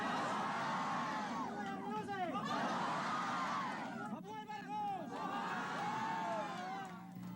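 A crowd cheers and salutes a woman helped onto an old table at a Philippine rally, sustained loud shouting and whooping with swelling voices throughout.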